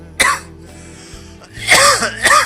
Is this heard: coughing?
yes